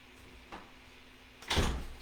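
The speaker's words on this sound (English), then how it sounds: "I got to close the door" A door swinging shut in a house, with a soft knock partway through and then a fuller thud as it closes, over a steady low background hum.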